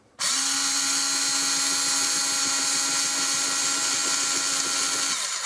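An electric drill with a 1 mm bit whines at a constant high pitch, starting abruptly and running loud and steady for several seconds with no talking.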